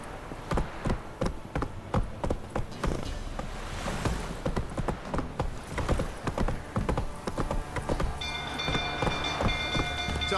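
A horse's hooves clip-clop in The Witcher 3 video game, a steady rhythmic series of sharp close hoofbeats with a faint tonal sound entering near the end.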